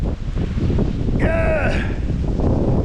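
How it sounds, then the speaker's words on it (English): Strong wind gusting outdoors over a yard of trees as dry leaves blow across the ground, a steady broadband rush that stays loud and constant throughout, with a brief tonal whine briefly rising over it. "Man, it's windy out here."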